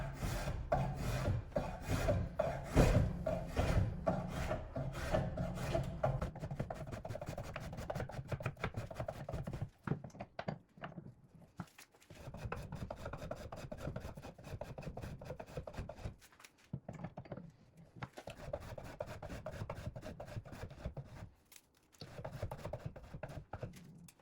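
A spokeshave shaves a green wood blank in loud, rhythmic rasping strokes, close and continuous for several seconds, then in shorter bursts broken by brief pauses.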